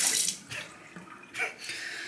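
Water from a tap splashes onto a Vermont green slate honing stone at a sink, loud at first, then several brief fainter splashes and pours with short pauses between.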